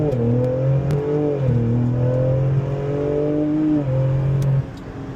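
A 2022 Ford Explorer ST SUV accelerating hard on a back road, its engine note climbing through several gear shifts in a steady pull before easing off near the end, heard from inside the cabin.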